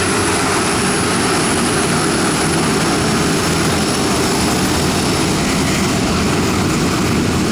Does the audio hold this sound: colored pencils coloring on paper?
no